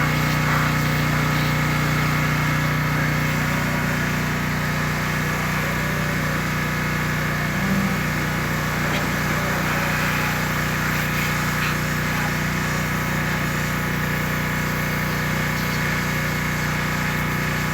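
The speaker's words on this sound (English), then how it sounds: "gonna take over the power washer here so we can get this job done" Engine-driven power washer running steadily nearby, a constant droning motor hum with no breaks and no talking, used while cleaning a tractor.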